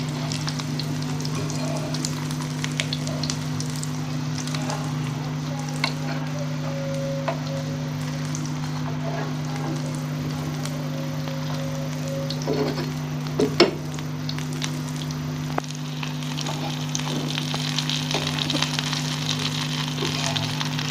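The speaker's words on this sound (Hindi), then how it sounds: "कबाब अच्छे से फ्राई हो गए हैं" Vegetable kebabs fry in a pan over a medium flame, giving a steady, quiet sizzle throughout. A constant low electrical hum runs underneath, broken by a few faint clinks and scrapes.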